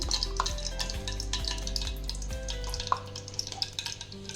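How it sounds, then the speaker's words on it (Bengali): Ghee goes into a hot kadai for chicken ghee roast and sizzles, with soft scraping and stirring clinks against the pan; close, fairly quiet, no talk. "কড়াটা গরম হয়ে গেছে, এতে আমি ঘি দিয়ে দিচ্ছি।"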